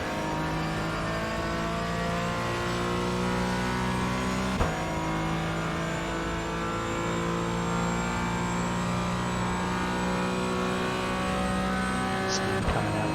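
A race car engine in the iRacing sim racing game drones at a steady high pitch throughout, with gradual pitch shifts and a brief click partway through, and no talking over it.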